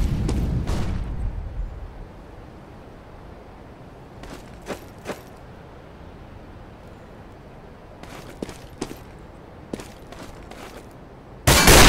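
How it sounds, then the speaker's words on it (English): A flashbang grenade goes off in a first-person shooter match: a loud burst at the start, a few scattered sharp cracks in the middle, and a loud blast right at the end. "Flashbang."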